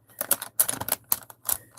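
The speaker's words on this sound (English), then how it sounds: "I love the sound they make as I shuffle through, you know, a whole bunch of greens" Prismacolor colored pencils shuffled together in quick clattering bursts of wooden clicks, close and crisp, with brief pauses between handfuls.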